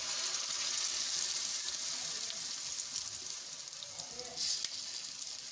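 Batter poured into a sizzling tempering of cumin, sesame seeds and curry leaves for handvo gives a soft, close crackle that fades slightly as it settles, with brief scraping near the end.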